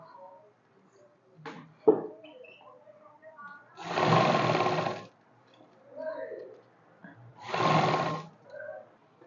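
A sewing machine stitching a round-neck kurti runs in two short bursts of whirring mechanical stitching, close and fairly loud, separated by pauses with faint rustling and handling noises.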